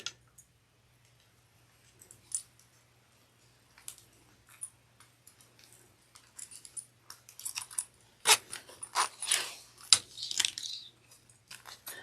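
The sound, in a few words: feeding zipper pulls onto a zipper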